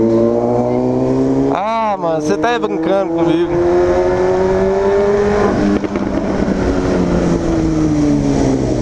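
A Honda Hornet motorcycle exhaust roars loudly, revving up sharply and then holding a steady high drone with rapid pops. Someone speaks excitedly over the engine.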